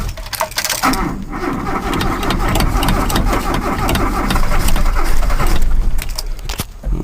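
An old, worn car engine with a points ignition cranks over after a few choke pumps, catches and settles into a steady, loud running idle that continues to the end.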